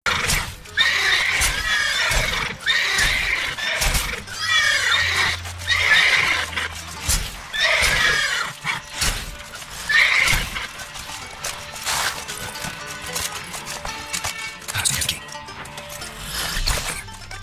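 Horses in The Witcher 3 neigh and whinny repeatedly, loud and close, with hooves clopping and occasional crashing thuds between the cries; no talking.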